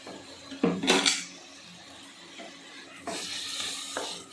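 Masala being fried and stirred in a pan for chicken stuffed brinjal curry, with a few scraping clatters of a spoon against the pan and a low background hiss. No one speaks.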